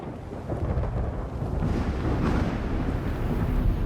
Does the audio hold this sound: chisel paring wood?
no